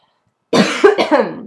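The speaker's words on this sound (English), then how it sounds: "I might cough a little bit" A few close, harsh coughs in quick succession after a brief silence, loud and hoarse.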